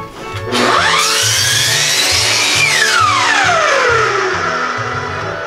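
A slide circular saw cuts squarely across a wooden board, spinning up with a rising whine that holds loud and steady through the cut and then winds down, with a repeating low rumble beneath it.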